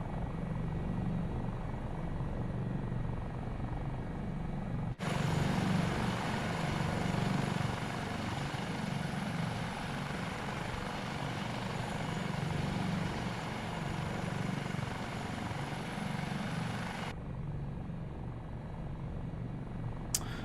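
A Eurocopter Dauphin helicopter climbs out just after takeoff with its gear up, heard from on board as a steady, loud rotor and turbine drone that continues unbroken for the whole stretch.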